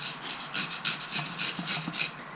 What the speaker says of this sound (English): we got a wire brush, and we need to clean out all the cracks